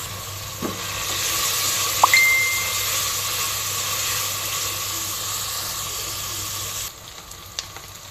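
Masoor lentils (dal) sizzle steadily in hot oil in a pan, a close, even frying hiss that runs for about seven seconds before cutting off abruptly, with a couple of faint clicks at the end.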